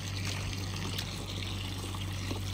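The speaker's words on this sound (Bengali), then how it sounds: "এবার পরিষ্কার জলের মধ্যে আমি ভালোভাবে ধুয়ে নিচ্ছি টিউবারগুলো।" Lotus tubers being rinsed by hand in a container of clean water during repotting, with steady close splashing and trickling under a constant low hum.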